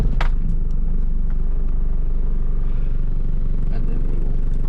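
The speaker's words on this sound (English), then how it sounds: "and then we're going to start the engine." A 24-volt truck engine idles steadily, with a continuous loud low rumble and a few brief clanks and clatters on top, close by and without pause.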